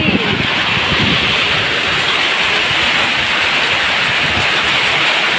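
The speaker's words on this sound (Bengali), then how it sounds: "প্রচুর পরিমাণের বৃষ্টি হচ্ছে আমাদের এদিকে।" Dense, loud, continuous rush of heavy rain pouring down close by, a steady broadband roar without breaks.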